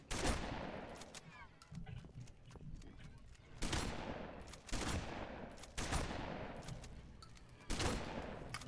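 Gunfire in Halo 3 arrives as repeated loud bursts of shots, each cluster followed by a decaying echo, recurring roughly every second or two and set against quieter battle noise.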